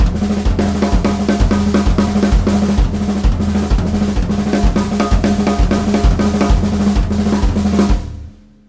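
A drum kit plays a repeating six-stroke fill variation with shifting accents, a tight, steady pattern of snare and tom strokes over regular kick hits, loud and close, with no talking, ending in a fading ring.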